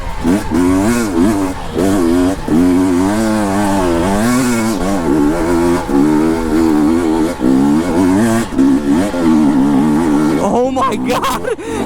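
A dirt bike engine revs loudly and continuously while riding, its pitch rising and falling with throttle changes over nearly twelve seconds, close and dominant throughout.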